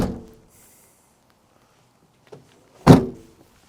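A Toyota Land Cruiser's passenger door unlatches with a soft click, then after a quiet pause swings shut with one solid, loud thunk close by.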